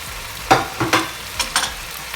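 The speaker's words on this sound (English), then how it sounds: "So now I flatten it out and I put the full big white onion." A whole large white onion hitting seasoned taco meat in a pan on high heat, giving a few sharp sizzling bursts with stirring scrapes close by and no voices.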